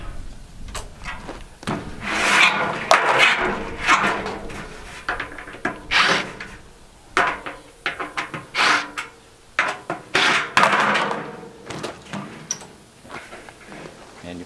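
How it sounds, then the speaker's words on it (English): Screws being backed out of a metal clothes dryer panel during scrapping make intermittent scraping, rubbing and clattering sounds close by, in uneven bursts with someone talking over them. "when I remove these pieces here, I try to do the two end screws first"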